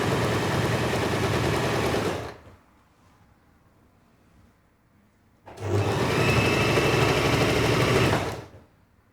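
A sewing machine runs at a steady fast stitch in two long bursts as a sleeve is sewn into a garment, with a quiet pause between them. The whirring hum is close and clear, and nobody speaks.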